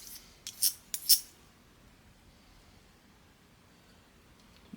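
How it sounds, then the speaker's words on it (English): Kenchi grooming shears being sharpened: four quick, sharp metallic scrapes close by in the first second, then near silence with faint rustling. "This is how I first learned to sharpen scissors."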